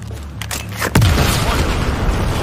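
Explosion in Battlefield 4 gameplay, a sudden heavy boom about a second in that rolls into a loud, sustained rumbling blast with debris noise, preceded by quieter battle sounds.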